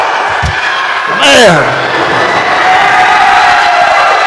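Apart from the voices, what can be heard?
wrestling crowd cheering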